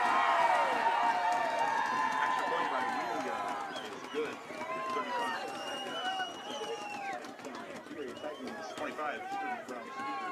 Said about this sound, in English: Crowd shows their approval for Weebinga, who knocks it through.